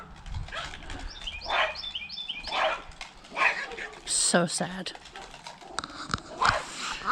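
Several dogs bark and yip in bursts at a neighbour's dog from three doors down, close and fairly loud, with someone talking over and between the barks.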